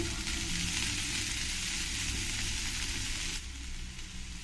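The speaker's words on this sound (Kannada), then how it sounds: "ಅದನ್ನು ಇವಾಗ ಎಣ್ಣೆಗೆ ಸೇರಿಸ್ತೀನಿ." Chopped vegetables including capsicum fry in hot oil, a loud continuous sizzle that eases slightly toward the end.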